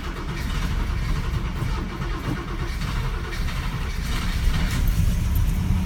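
Old carbureted 1964 Cadillac Coupe engine cranking and catching, a steady loud low rumble filling the whole stretch with no clear pauses.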